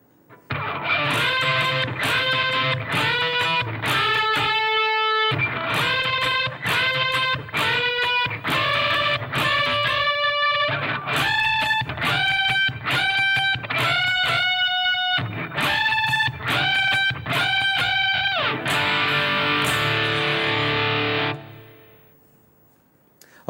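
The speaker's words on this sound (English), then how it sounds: "Now there's another part that the guitar is playing with some unison bends" Distorted electric guitar playing unison bends, repeated sustained bent notes in rhythmic bursts with brief pauses, loud and close, ending on a held chord that fades out.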